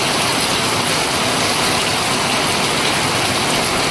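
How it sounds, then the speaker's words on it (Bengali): Heavy monsoon-season downpour pouring steadily as a dense, continuous hiss of rain with no pauses, close and loud, with no voices. "এখন মুষলধারের বৃষ্টি যখন শুরু হয়ে গেছে"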